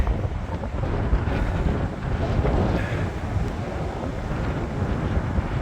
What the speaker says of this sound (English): I didn't realize it was going to be so cold up here. So windy.